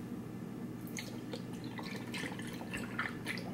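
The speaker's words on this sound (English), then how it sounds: "Put some of the liquid in." Liquid trickles and drips onto smoothie ingredients such as carrots, a soft, close, continuous splashing with small drips over low background hum.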